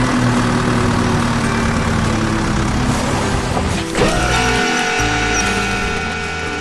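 Heavy machinery in an animated construction scene rumbles with a loud, deep engine drone and mechanical clatter, the tone shifting and dropping briefly partway through before the engine settles back into a steady grinding idle.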